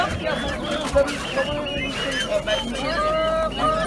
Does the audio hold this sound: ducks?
yes